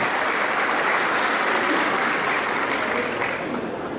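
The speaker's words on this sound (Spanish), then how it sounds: "para quien pido un fuerte y caluroso aplauso" Warm applause from a crowd at a Chilean cueca competition awards ceremony, a dense, loud and even wash of many people clapping that holds steady throughout, with no talk over it.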